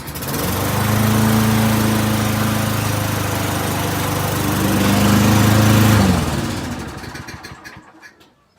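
A riding lawn mower engine runs steadily and loud with a droning hum, rising slightly in pitch before cutting off near the end and trailing into near silence.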